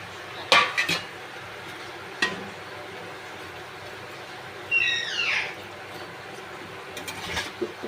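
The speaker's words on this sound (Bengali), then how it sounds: "এবার আমি মাছটা দিয়ে দেব।" Parshe fish pieces go into simmering gravy in a metal pan, giving a few sharp clinks and clatters of a utensil against the pan over a faint background bubbling, with a brief squeaky rubbing sound in the middle; no one speaks.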